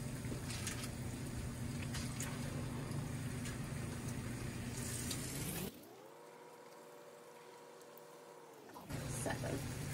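Doughnut batter for French crullers frying in a pot of hot grease, giving a steady broadband sizzle with a low hum, briefly dropping to a quieter muffled stretch before the bubbling frying resumes.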